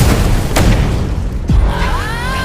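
Two booming blasts hit in quick succession in a film teaser, the first around the half-second mark and a second heavy boom about a second later, each loud and close against a dense rumbling score with a rising tonal sweep after.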